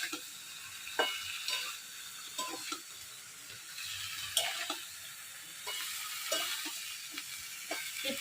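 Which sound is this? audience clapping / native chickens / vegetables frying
vegetables frying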